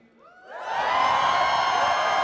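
A live concert audience at a Mega Man-themed music event bursts into cheering, whoops and shouts that swell quickly from near silence into a loud, sustained crowd roar.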